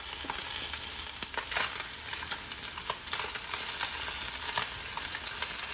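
Sea scallops sear in butter in a pan, a continuous close crackling sizzle with small pops and occasional scraping as they are dragged around.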